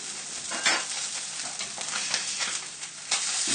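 A trout fillet fries skin-side down in a hot frying pan, giving a continuous bright sizzle with small crackling bursts and light scrapes, close and fairly loud, with no talking.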